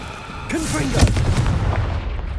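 Confringo blasting curse in Hogwarts Legacy, a spoken incantation followed by a loud, close fiery explosion with a deep boom and crackling rumble that fades out.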